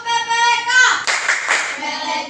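A class of children claps a rhythmic chant in an Indonesian classroom, with sung or chanted voices over patterned hand claps, close and loud throughout the short burst.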